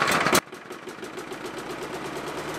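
Lawnmower engine firing up on a workbench after priming and a cord pull, a loud burst at the start settling into a rapid steady putter that cuts off abruptly.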